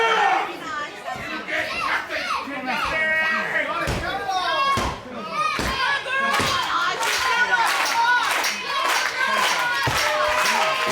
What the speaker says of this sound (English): Crowd rallying behind the sisters.